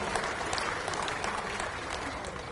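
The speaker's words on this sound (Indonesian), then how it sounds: "Kita berikan aplaus kepada Pak Agus." Steady applause from a crowd at a Golkar party congress in Indonesia, honouring Agus Gumiwang Kartasasmita, with dense continuous clapping that holds even and loud throughout without any speech.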